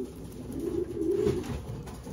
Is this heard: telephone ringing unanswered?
no